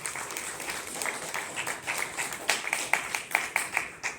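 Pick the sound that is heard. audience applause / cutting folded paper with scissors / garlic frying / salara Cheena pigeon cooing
audience applause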